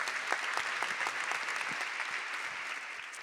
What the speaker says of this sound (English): So Let's applaud that.